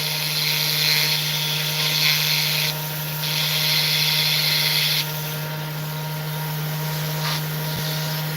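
Jeweler's bur drilling into a ring for stone setting, a high thin whine that comes in short bursts and pauses over a steady low motor hum, close and fairly quiet.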